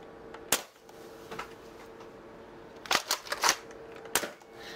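A Dart Zone Nexus Pro toy blaster gives a few sharp plastic clacks and snaps, scattered then clustered, as its charging handle is pulled and pushed and it fires, heard close with no talk.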